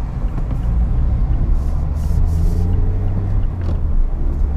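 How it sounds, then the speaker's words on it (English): A Mazda MX-5 RF drives onto a highway on-ramp with a loud, steady, close engine and road rumble inside the cabin. Brief faint clicks and hisses sit above the drone. "let's pull up onto an on-ramp and just show you how well it sticks to the road"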